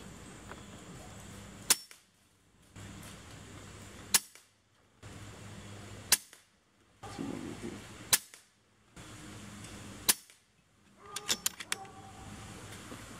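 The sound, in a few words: air gun firing JSB Hades pellets through chronograph, max power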